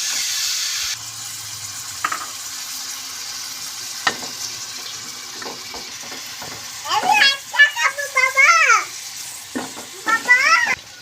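Eggs frying in leftover oil in a pan after boiled vegetables are set aside, a steady soft sizzle with occasional clinks of a utensil, while chirpy child-like voices and brief squeaks come and go in the later seconds.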